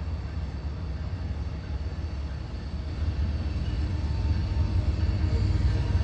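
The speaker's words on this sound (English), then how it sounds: "So there's a BSNF train." BNSF freight train hauling many hopper cars rolls past in Houston, Texas, led by an ES44AC locomotive; a steady low rumble and rolling roar that grows slightly louder toward the end, with no voices.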